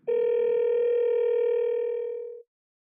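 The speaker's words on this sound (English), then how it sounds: "tapping on a phone number calls that number" An original 2007 iPhone placing a call plays a steady, clean dial tone that holds for about two and a half seconds, then cuts off abruptly into silence.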